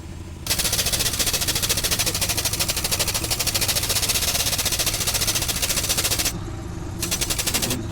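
A truck jack being pumped to lift a vehicle gives a loud, steady, rapid mechanical rattle that runs almost continuously, breaking off briefly twice near the end before resuming.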